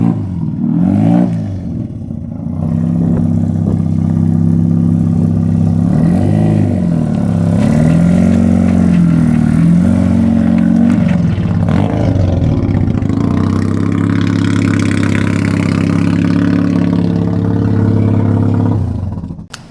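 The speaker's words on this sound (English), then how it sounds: "She does a pretty mean burnout." A Mazda RX-7 doing a burnout, its engine held at a loud, sustained high rev with wavering pitch and tyre roar, rising and dipping briefly before holding steady close by for the full stretch.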